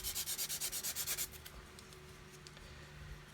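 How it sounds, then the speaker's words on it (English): A coarse sanding stick rubs against a small plastic part of a 1/72 Airfix Vulcan model kit, with a quick series of about ten close, rhythmic rasping strokes followed by quieter, scattered scraping. "I'm going to grab a coarser stick because the finish doesn't matter because no one's ever going to see it. And just remove some material from here"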